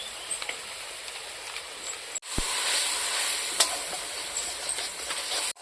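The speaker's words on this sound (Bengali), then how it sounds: "মশলাটাকে আমি এইভাবে ভালো করে কষিয়ে নেব।" Ground spice paste with salt, turmeric and Kashmiri chilli powder sizzles steadily in a pan for a village-style vegetable egg curry, a continuous frying hiss that swells louder midway, with faint stirring scrapes and no talk.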